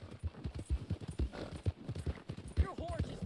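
A horse gallops in the video game Red Dead Redemption 2, with steady rapid hoofbeats throughout while people talk over it.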